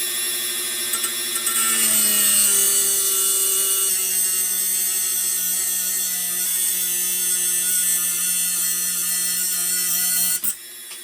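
A small power tool whines steadily and loudly as it cuts off a pin on a Camillus Cub Scout pocket knife, holding a high, even tone for about nine seconds before stopping abruptly.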